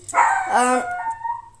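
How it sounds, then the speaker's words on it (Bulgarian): A pet dog barks and yelps indoors in a home kitchen, a short excited volley of a few barks and whines at moderate distance, fairly faint. "Извинете кучето ми,"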